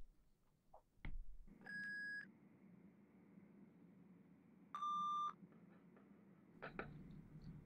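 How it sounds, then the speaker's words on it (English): Two steady electronic test tones a few seconds apart sound during an audiologist roleplay hearing test, each about half a second long, clean and moderately loud over a quiet background with soft tapping noises around them. "The beeps will get faster and faster."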